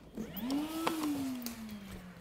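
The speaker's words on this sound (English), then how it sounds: "This is the XCV16. It's a 36 volt vacuum." A Makita XCV16 36-volt cordless vacuum, its hose attached to a drywall sander, whirs up to a rising motor whine, then settles into a steady, slightly falling hum, fairly close and running alone.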